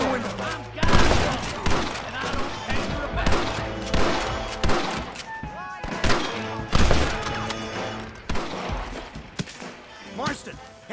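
Gunfire rings out in a bank shootout in Red Dead Redemption, with rapid, repeated loud gunshots and crashes in irregular bursts, while voices shout over the fighting.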